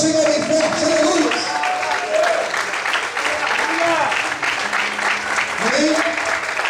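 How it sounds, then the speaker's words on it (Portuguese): Church congregation applauding loudly and steadily at a Portuguese-language service, a continuous wash of clapping with voices calling out and a tone-like voice rising above it throughout. "Quantos podem aplaudir e glorificar ao Senhor bem forte?"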